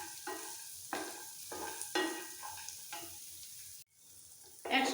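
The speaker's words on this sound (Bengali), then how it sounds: "বাদামটাকেও একটু হালকা ভেজে নেব।" Peanuts lightly frying in a pan with repeated stirring, the spatula scrapes coming in regular strokes over a quiet, steady sizzle, close and fairly soft, with no talking.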